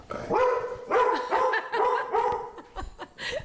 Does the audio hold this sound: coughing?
no